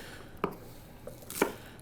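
Two crisp knife chops through green onions on a cutting board, spaced about a second apart, fairly close and quiet with no talking.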